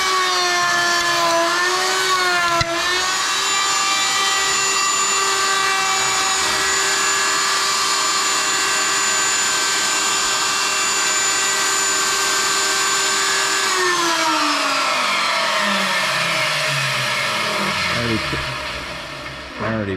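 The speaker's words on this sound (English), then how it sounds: "we're going to turn this old router on and I'll show you how this works" An old electric router cutting a square edge into wood, a loud, continuous whine that runs steadily for most of the span and then winds down near the end, close up with no voices.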